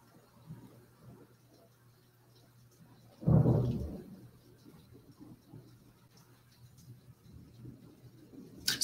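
A single low rumble of thunder from a lightning storm rolls in and fades, faint and distant against a quiet indoor background.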